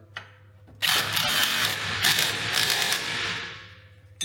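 A wrench tightens a bolt on the adjustable suspension kit of a Mercedes W202, giving a near, continuous mechanical ratcheting and grinding burst lasting about three seconds after a short knock.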